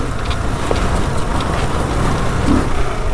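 A 2022 Kawasaki KLR650 ABS pulls away in second gear on gravel, dirt and mud, its engine a loud, close, steady drone mixed with wind rush and no talk.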